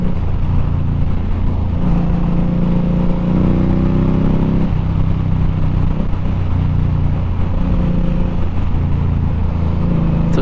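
Steady engine rumble of an Indian Scout mid-size cruiser motorcycle while riding, a loud continuous drone with slight shifts in pitch as the throttle changes, no voices.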